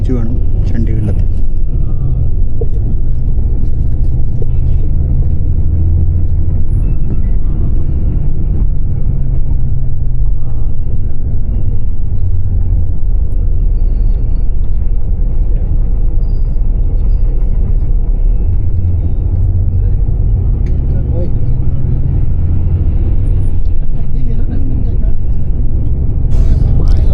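HRTC Volvo bus rolling through heavy traffic near Chandigarh, with a steady loud low engine rumble and road noise throughout and talk inside the cabin.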